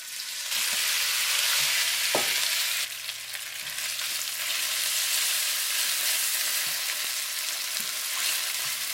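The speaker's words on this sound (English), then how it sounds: "So we put some oil in it. Okay, then we put the beef in it." Beef drops into hot oil in a pan and erupts into a loud, dense hiss that holds steady for several seconds, with a few faint clinks of utensils underneath.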